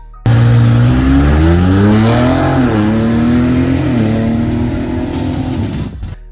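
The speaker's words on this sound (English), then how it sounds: "this lovely sounding Hurricane engine sitting side by side on the lot" A Ram TRX pickup's Hurricane engine starts and revs loud and close, its tone rising and falling through several climbs before cutting off sharply near the end.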